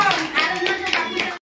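Hands clap in a short, lively burst at a gathering, with a voice talking over the applause until it cuts off abruptly.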